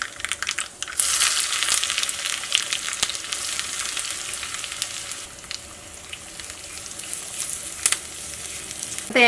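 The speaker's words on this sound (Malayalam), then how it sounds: "ഫസ്റ്റ് കടുക് പൊട്ടിക്കട്ടെ." Mustard seeds and a pinch of fenugreek spluttering in hot coconut oil, a loud continuous crackling sizzle with sharp pops throughout, heard close up with no talking.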